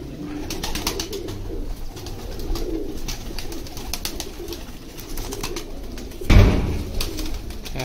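Breeder pigeons coo in low, rolling murmurs close by, with wing flutters and one loud thump partway through.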